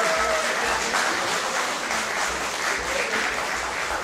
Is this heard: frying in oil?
no